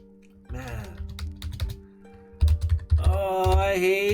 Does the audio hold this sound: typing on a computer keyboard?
yes